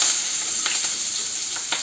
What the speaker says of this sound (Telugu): ఓన్లీ ఇవి మాత్రమే వేసి వేపేస్తున్నాను.